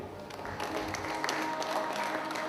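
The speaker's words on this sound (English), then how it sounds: "Please give a big round of applause for him, Chandra Javedi." An audience at a conference session gives a steady round of applause, a dense, even wash of clapping that fills the whole moment with no voices on top.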